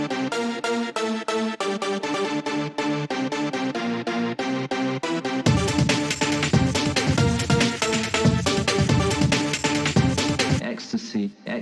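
A punchy sampled hardcore chord stab riff repeats in quick rhythmic hits, then thickens into a louder, grittier, overdriven layer before cutting off near the end.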